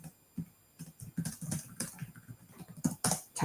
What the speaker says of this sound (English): typing in the background there, sorry.